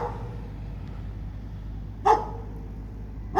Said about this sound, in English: There's a dog there, look.